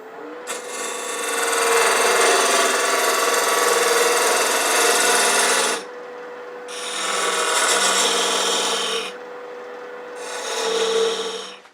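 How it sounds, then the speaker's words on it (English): A woodturning gouge takes a peeling cut on a lathe while turning a rook chess piece box: a loud, continuous rasping hiss for about five seconds, then two shorter bursts after brief pauses, with no voices. "Then I'm going to drop the handle and take a peeling cut like this."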